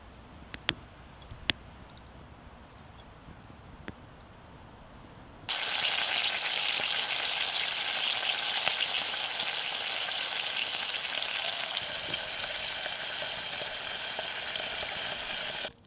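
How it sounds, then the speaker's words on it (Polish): Burgers frying in a pan over a campfire in an autumn forest camp, a loud continuous crackling sizzle that starts abruptly after a few faint ticks and quiet moments, then eases slightly toward the end. "bardzo ładnie się rozpaliło, także będę smażył burgery teraz"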